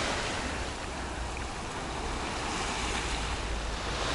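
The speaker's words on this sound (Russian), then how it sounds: "А вот так вот выглядит пляж и наше море в ноябре месяце." Sea waves wash steadily onto a beach in Alanya, Turkey, in November, a continuous broadband surf roar with a touch of wind, even in loudness throughout and with no voices.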